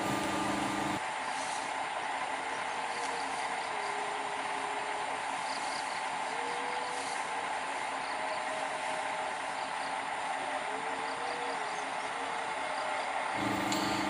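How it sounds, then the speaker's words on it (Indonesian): A sugar cane railway locomotive at PG Kedawung rolls along freshly cleared track at the start of the milling season, giving a steady low rumble with faint squeals and clanks, continuous and fairly distant, with no talk. "sekarang lokomotif kembali untuk menarik rangkaian lori-lori berisi rel portable"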